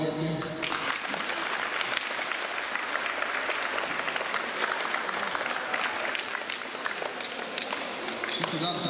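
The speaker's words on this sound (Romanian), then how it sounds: "Aplaude, prieteni!" Sustained audience applause at a junior futsal award ceremony in Moldova, a dense, steady wash of clapping lasting several seconds, close and fairly loud, with faint voices mixed in.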